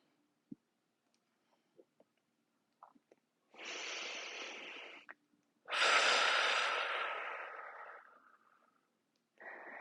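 Deep breathing during a seated core twist workout, with faint small clicks and sniffs, then a long forceful exhale lasting over a second and a second even longer, louder exhale that slowly tapers, another starting at the end.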